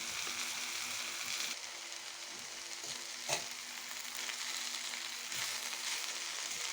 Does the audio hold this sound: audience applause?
no